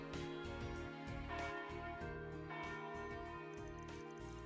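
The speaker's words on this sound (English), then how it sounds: "is that the bell from the chapel in the artisanal district?" A chapel bell in the artisanal district in Trails Beyond the Horizon rings out steadily in repeated resonant tolls with a long sustained hum, sounding over a layered ambient game score with no talking.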